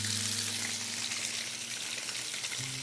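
Fish sears in smoking-hot olive oil in a pan, giving a steady, close, crackling sizzle that holds evenly throughout, with no talking.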